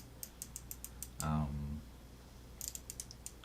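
Watch bezel being rotated, a series of small sharp clicks in quick rhythm, then a brief creaking scrape, then another run of clicks, close and fairly faint.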